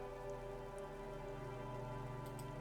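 Rain falls steadily in the video game Disco Elysium, a soft constant patter faint under a sustained tonal ambient music bed, with no speech.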